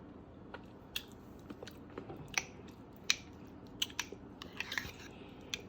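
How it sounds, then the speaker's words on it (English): Close, quiet chewing and biting on beet and potato salad, with scattered soft crunchy clicks in an irregular rhythm over low room hiss and no talking. "So I'm just going to give it a little taste."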